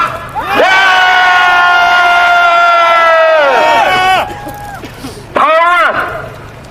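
Crowd at a candlelight rally in Korea roars a long, loud, sustained collective shout, fading out near the end, followed by a second brief burst of yelling.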